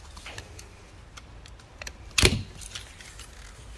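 A knife slices cleanly through a bonsai branch, leaving a smooth cut face, a single sharp crisp snap standing out once amid faint handling noise, alone with no talking.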